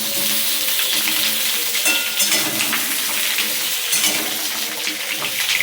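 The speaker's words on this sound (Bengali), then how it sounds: "আলুগুলো ভাজা হোক।" New potatoes frying in oil in a pan, a loud, close, continuous sizzle with occasional sharper crackles and stirring scrapes throughout.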